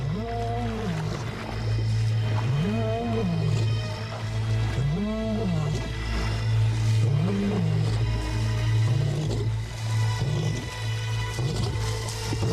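A wild lion gives a series of repeated roars that start strong and fade into shorter grunting calls, close and clear over a steady low background drone.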